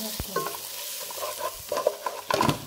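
Chicken sautéing in a pan with chili powder and turmeric, a steady sizzle broken by several scraping stirs of a utensil, close and fairly quiet, with no talking.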